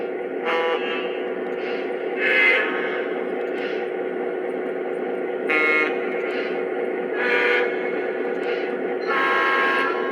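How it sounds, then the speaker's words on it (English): A small electronic horn on a Polar Express model train engine sounds in a series of short and longer toots over a steady motor hum, close and fairly loud, with no talking. "this has additional horns as well"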